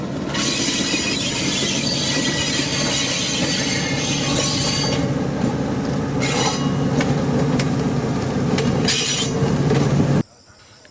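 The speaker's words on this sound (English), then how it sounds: "Here we see our locomotive with its cab full of track bashers, slowly making its way along the Chrome branch." A locomotive crawls along the Chrome branch line of Madagascar's railway with its cab full of riders, giving a steady, loud rumble with rail clatter and occasional squeals for about ten seconds before cutting off abruptly.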